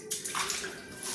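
Thin sliced potato wafers are tipped into a bowl of water, making a short, close splash and slosh that lasts about a second.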